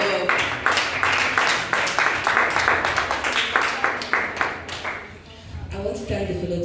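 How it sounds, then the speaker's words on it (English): An audience at a youth reparations debate applauds the debaters, a sustained patter of many hands clapping with some voices over it, fading near the end as a voice begins. "Please, can we give a hand of applause to all the debaters for the first round?"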